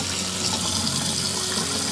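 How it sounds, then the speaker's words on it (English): Hot tap water runs steadily in a continuous broadband gush, rinsing out a baby's feeding bag at a sink, close and alone with no talk. "And then hot water. Go ahead and rinse that out."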